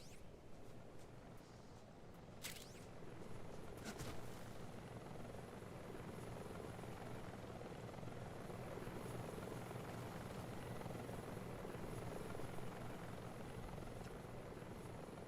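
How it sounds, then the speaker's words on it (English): Helicopter noise in the video game Metal Gear Solid Delta, a low, steady rotor drone that holds throughout at moderate level, with a couple of brief sharp transients near the start. "The noise the helicopter produces make things a little bit"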